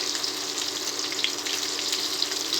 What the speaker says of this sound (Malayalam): നല്ലൊന്ന് ഫ്രൈ ചെയ്യണേ.